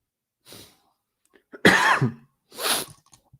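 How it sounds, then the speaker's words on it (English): A person coughs three times in separate bursts, the middle one loudest and harshest, close by with quiet gaps between. "I keep coughing."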